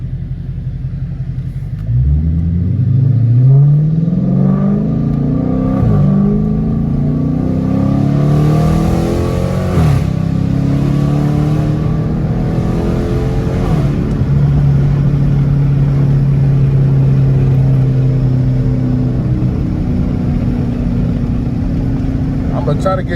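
Dodge Challenger R/T with a catless exhaust accelerating past, its engine rumbling low and loud as it revs up through rising gear pulls, then holds a steady drone as it passes, with someone talking.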